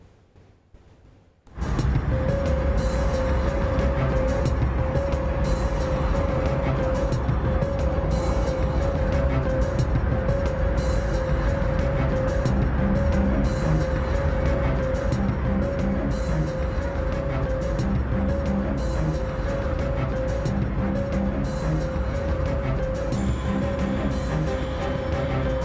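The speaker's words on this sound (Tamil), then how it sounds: "அது ஒரு நீண்ட டிராஃபிக் ஜாம் போல காட்சி அளிக்குது." Cars crawl in a long traffic jam leaving the capital, producing a dense, continuous wash of engine and road noise that starts abruptly after a short quiet opening, with a steady tonal hum running through it.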